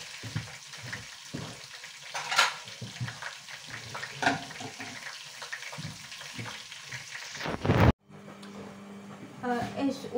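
Food sizzles and crackles in a frying pan on a home stove, with stirring and scraping bursts over the hiss, then a sudden cut to quieter kitchen sounds with running water at the end.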